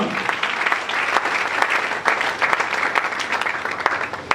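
Enthusiastic applause from a church congregation during a worship service, dense clapping sustained throughout with scattered louder claps and no clear cheering voices.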